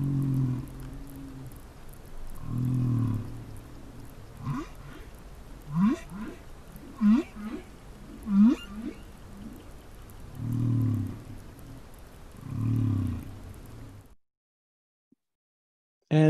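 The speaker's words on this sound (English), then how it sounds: "Here's an excerpt from a humpback whale song," A humpback whale song phrase: deep, droning moans alternate with a run of rising, whooping upsweeps, repeated in a slow, patterned cycle before cutting to silence.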